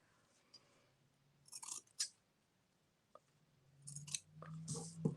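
Scissors cutting a piece of lace make a few quiet, short, close snips, a pair early on and a small run near the end, in an otherwise hushed room.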